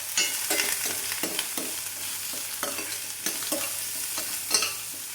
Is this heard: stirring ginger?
yes